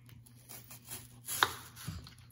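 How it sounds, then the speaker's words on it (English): A knife chops an onion into small pieces on a board, a few faint, quick taps with one sharper stroke, quiet and close with no talking. "So we are going to cut onion."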